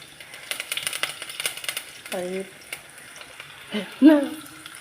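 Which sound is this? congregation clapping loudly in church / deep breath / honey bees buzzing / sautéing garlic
sautéing garlic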